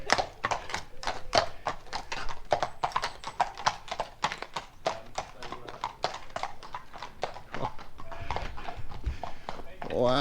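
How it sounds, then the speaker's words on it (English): Horses walking on a country lane in Hampshire, hooves clip-clopping in a steady, close rhythm throughout, with people talking over them. "those were really beautiful horses, weren't they?"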